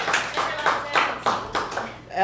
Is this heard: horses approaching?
no